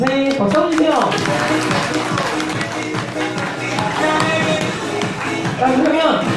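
Guests clapping at a first birthday party, a dense patter of hands mixed with crowd chatter and talking throughout, swelling again near the end.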